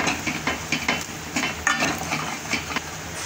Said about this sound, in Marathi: थोडी हळद, व्यवस्थित परतून घ्यायचं।